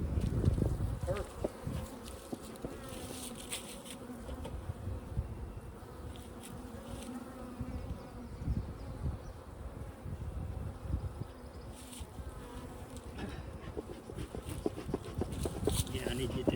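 Honeybees buzz steadily and close by during a beehive inspection, a dense droning hum that lasts throughout, with a person talking over it at times.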